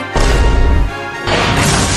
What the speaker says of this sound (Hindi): पानी की टंकी टूट गया।